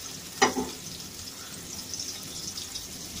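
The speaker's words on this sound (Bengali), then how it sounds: "পেঁয়াজটা একটু ভেজে নেব" Onions fry in oil in a pot on the stove, a faint steady sizzle with one sharp clink of a utensil early on.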